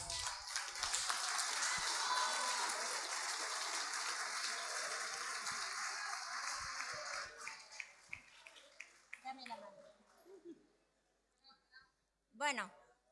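A large crowd at a solidarity festival applauds loudly and steadily for several seconds, then the clapping thins into scattered claps and fades as a voice begins speaking.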